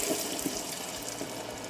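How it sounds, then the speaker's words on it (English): A jar of spaghetti sauce is poured into a cooking pot on the stove, making a soft, continuous wet glugging and splatter. It is quiet and close, with no talking. "to my pot, I'm going to add a jar of spaghetti sauce"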